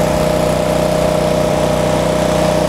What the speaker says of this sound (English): Engine goes to 3600 RPM.